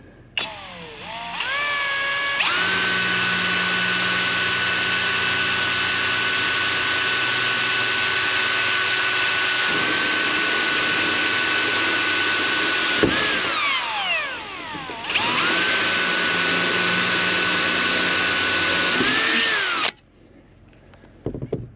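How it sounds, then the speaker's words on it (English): An electric drill fitted with a new bit whines loudly as it bores into a square steel tubing rail on a Honda Odyssey van, in two long sustained runs separated by a short pause. "New drill bits are always nice."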